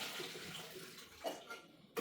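Water from a cooking pot pours and splashes steadily into a sink, a broad wet rush with a few louder gurgling surges near the end.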